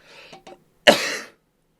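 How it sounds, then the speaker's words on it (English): A single short, raspy throat clear, close and fairly loud, preceded by a couple of faint breathy sounds. "clearing my throat in the bar."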